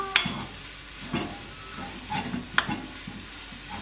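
Kerala-style chicken keema sizzles in a pan with onions, tomatoes and masala while a spoon stirs and scrapes in a few distinct strokes over a steady hiss, close and without talk.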